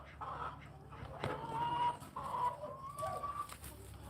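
Chickens cluck and murmur close by in a yard, with soft, irregular calls and a few higher drawn-out notes over a low steady background hum.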